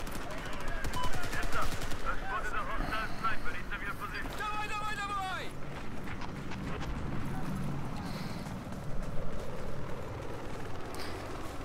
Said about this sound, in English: Who's firing suppressed?